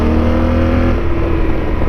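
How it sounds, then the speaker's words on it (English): A motorcycle engine revving hard as the bike accelerates along a road with winding twisties, a loud close throaty roar that rises and shifts in pitch, heard alone without talk. "Man, this bike sounds good when it's like hitting it."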